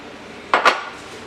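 A brief pair of metallic clinks and scrapes of a utensil against a pan as linguine with shrimp and parsley is mixed, two quick sharp sounds over quiet background.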